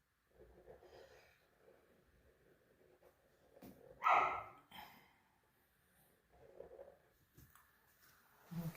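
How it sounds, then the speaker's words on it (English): A dog gives a single sharp bark in a quiet room, with soft snuffling and faint movement around it and another brief sound near the end. "I have a dog barking in the background again."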